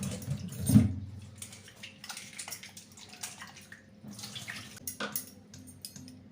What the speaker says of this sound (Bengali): প্রথমে আমি আলুটা ধুয়ে নিচ্ছি